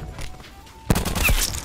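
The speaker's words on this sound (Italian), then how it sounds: "Colpo a distanza anche, bello." A long-range gunshot in Black Ops 4 lands as a sudden sharp crack about halfway through, followed by a ringing burst of further shots and echo after a quieter stretch.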